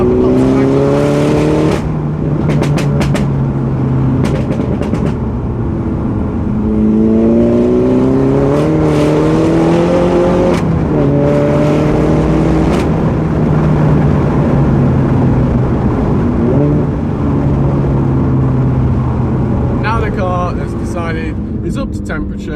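A 2015 Mini Cooper S F56 is driven with the windows down, its engine and exhaust droning and climbing through gears close by, while a person talks over much of it.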